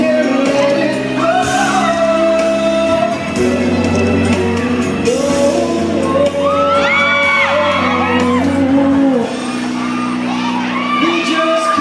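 A crowd at a mall show in SM City Pampanga whoops, shouts and cheers loudly and continuously over amplified pop music, with voices rising in waves throughout.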